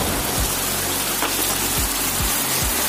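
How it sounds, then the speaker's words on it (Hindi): Heavy rain at a house in India pours steadily with a dense, constant hiss, broken by a few low thumps from drops or gusts close by. "इतना भयानक बारिश हो रही है."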